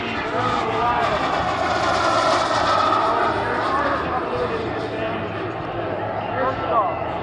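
US Navy Blue Angels F-18 jets roar at an airshow, a loud, continuous, broad engine rush that holds steady for several seconds, with a voice talking over it.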